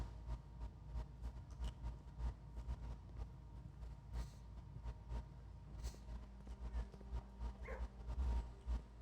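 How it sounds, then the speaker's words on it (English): A dog barks in the video game Blue Prince, repeated soft yips and barks under a low rumbling background, faint and steady throughout. "That's a different dog than earlier."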